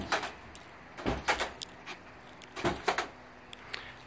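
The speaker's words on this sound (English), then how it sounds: "At the push of a button, all your doors open right up" Doors of a 2017 GMC Savana Pro van, opened at the push of a button, make a few faint clunks and latch clicks in separate bursts, spaced across quiet moments.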